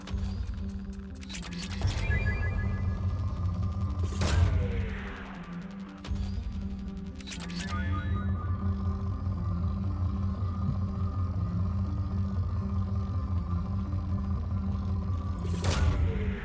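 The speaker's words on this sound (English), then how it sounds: "Launching probe." A probe launching in Mass Effect 2 as a deep, sustained rumble with a couple of sharp bursts and surging whooshes, steady and loud throughout under a continuous low drone, with no speech.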